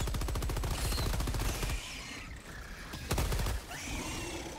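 Rapid machine-gun fire from the Stalwart in Helldivers 2, loud bursts of fast, evenly spaced shots broken by a brief pause before a second short burst, with no voices.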